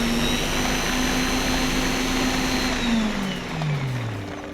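Electric blender grinding hummus, a loud, continuous motor whir that holds steady and then winds down in pitch toward the end, with no voices.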